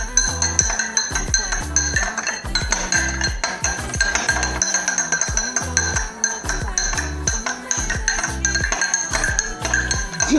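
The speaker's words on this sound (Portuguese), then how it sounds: "Agora ele vai pegar uma colher pra gente mexer." A metal spoon stirs a drink in a glass, producing a fast, continuous run of bright clinks and scrapes against the sides, loud and close with no talking.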